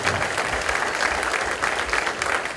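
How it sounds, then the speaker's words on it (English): Crowd applause at a neighborhood crimewatch meeting, steady dense clapping from a full room, fairly loud and continuous with no pauses. "Let's give all these men a round of applause"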